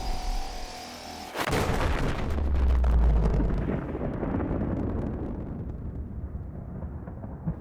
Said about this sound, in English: By then the Sunbeam arrives and is then shot down by the cannon.